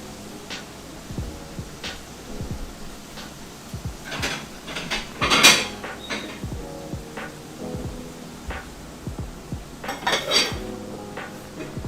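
Mushrooms and peppers are pushed across a pan with a utensil while sautéing low and slow for quesadillas, giving intermittent scrapes and metallic clinks at close range, with a louder clatter midway.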